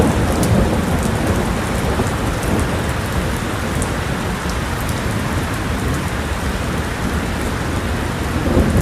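A thunderstorm pours heavy rain in a dense, continuous wash, with low thunder rumbling beneath it throughout, loud and unbroken, no voices.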